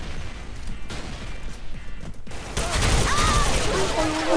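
Dense gunfire and explosions in the online shooter Special Force 2, rapid overlapping shots and blasts building to a loud continuous barrage, with players talking over the combat.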